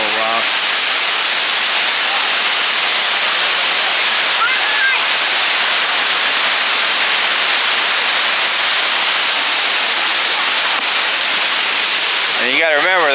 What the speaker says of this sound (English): standing under the waterfall, awesome